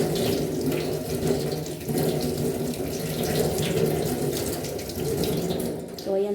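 Steady running water from a tap splashes over a vegetable being washed in a sink, a continuous close gush with slight shifts in flow as the vegetable is turned under the stream.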